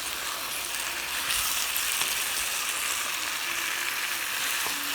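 Capsicum and pork pieces for chilli pork frying and being stirred in a hot pan, a loud, steady close-up sizzle with occasional soft stirring knocks and no talking.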